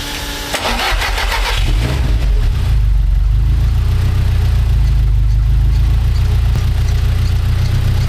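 A car engine cranks and catches after a gearbox rebuild, then settles into a loud, steady, rumbling idle. Close and continuous, with no voices.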